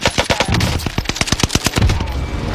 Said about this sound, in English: Here's the target for airstrike.